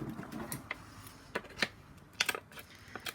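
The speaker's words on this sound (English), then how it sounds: "I'm going to put a couple of little cuts in with a small pair of scissors" Small scissors snip paper while making a handmade book-pocket tag: a few sharp, quiet clicks and short cuts come irregularly, each brief and close, with no talk.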